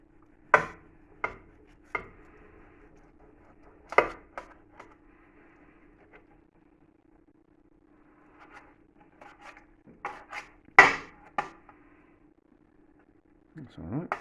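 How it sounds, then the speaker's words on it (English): A knife carves into a roasted brined pork joint, giving sharp cutting and scraping thuds in irregular bursts with quiet gaps between, close up under a steady low hum. "carve into it, and we'll see what it's like on the inside"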